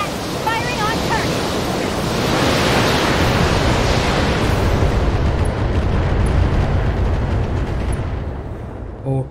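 A missile barrage rumbles and roars as it strikes a turret in the Battletech video game, a dense, loud, sustained blast of noise that swells for several seconds, then tapers off near the end.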